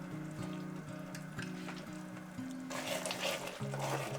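Doenjang is stir-fried with cola and sugar over high heat in a pan, giving a close, bubbling sizzle with intermittent scrapes and clatters of stirring.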